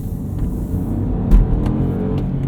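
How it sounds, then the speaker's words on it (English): A 2019 Mini Cooper two-door hardtop Oxford Edition with a six-speed manual and turbocharged three-cylinder engine accelerates with a steady, close engine rumble, with a brief thump partway through. "this turbocharged 3-cylinder still gets around just fine. It actually kind of sounds like a baby V6."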